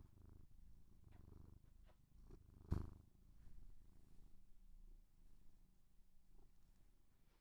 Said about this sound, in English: Are we able to hear him purring, or is the mic not picking it up?